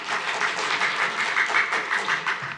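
An audience at a city commission meeting applauds, a steady dense wash of clapping from many hands filling the room without pause.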